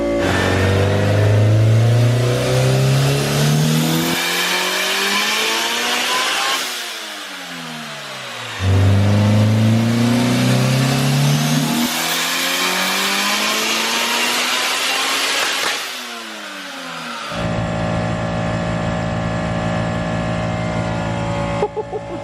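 A 2.5-litre all-motor K series hatchback revs hard on a dyno in two long rising pulls, each climbing to a loud scream before dropping off, then settles into a steady high drone with no voices.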